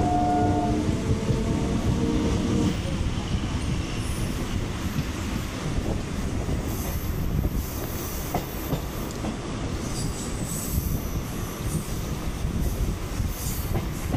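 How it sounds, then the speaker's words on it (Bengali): A passenger train runs on the Tarakeswar–Bishnupur branch line near Arambagh, heard from inside a nearly empty coach as a steady rolling rumble with rhythmic wheel clatter and a brief horn-like tone near the start. "তো বন্ধুরা, আমাদেরও ট্রেন ছেড়ে দিয়েছে।"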